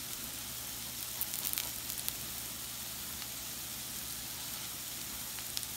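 Potato lollipops (bateta wara) frying in a pan make a steady, low sizzle with fine crackles throughout. It stays fairly quiet and even, with no voices.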